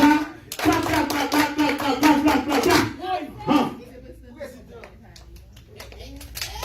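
An audience claps in dense bursts over loud overlapping voices for about three seconds, then the applause fades into quieter chatter.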